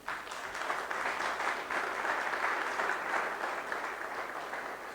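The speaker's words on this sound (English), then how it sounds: "And you clap for them." An audience claps for Ghanaian teachers during a speech on STEM education, a steady round of applause from a fairly large crowd, moderately loud and tapering slightly toward the end.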